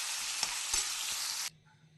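Crab frying in a pan, a loud close sizzle with a few stirring knocks that cuts off abruptly partway through, leaving near silence.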